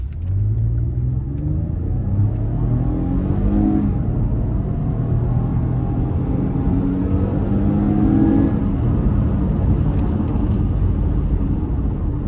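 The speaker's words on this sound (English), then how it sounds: "for the acceleration of a naturally aspirated V6, not bad." A 2017 Toyota Highlander SE AWD with a naturally aspirated V6 accelerates hard, heard from inside as a deep steady rumble with engine tones climbing through two gear pulls, loud throughout.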